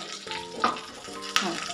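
Curry leaves tempered in hot oil for Andhra-style pappu, crackling with two sharp bursts of sizzling and popping over a steady frying hiss, close and fairly loud.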